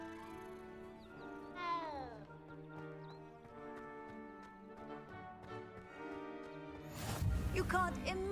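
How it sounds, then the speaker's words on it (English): Cat meowing in the video game Hogwarts Legacy, several drawn-out rising and falling meows over soft background music, followed by a louder burst of game sound near the end. "Oh, that's a cat."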